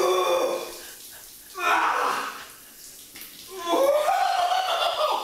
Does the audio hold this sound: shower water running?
yes